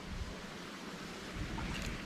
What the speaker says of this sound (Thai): นั่งฟังเสียงน้ำไหลบนฝายนะฮะ